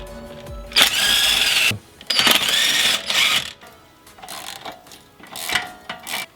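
Tools working on 19mm bolts at the strut of a 2015-or-later Subaru WRX/STI, with loud whirring bursts of a few seconds each, separated by brief pauses and clicking mechanical noises, close up.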